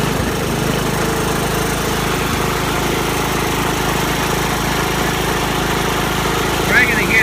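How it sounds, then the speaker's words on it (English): Cub Cadet model 86 garden tractor engine running steadily with a dense, even mechanical drone and constant rumble, close and loud throughout, after a refurbish with a new exhaust. "Rev it up some."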